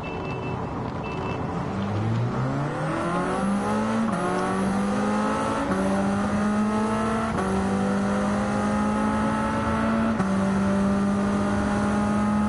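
A car in Gran Turismo 7 accelerating hard, the engine note climbing steadily through several gear changes, loud and close, with brief dips at each shift and no talk.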